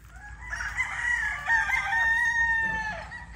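A rooster crows once, loud and close, a drawn-out call over a low background hum on a farm hit by a typhoon and monsoon rains.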